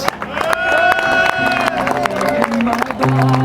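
Crowd applauding at a rally award ceremony in Lloret de Mar, steady clapping under loud music with sustained tones and an announcer-style voice over the top.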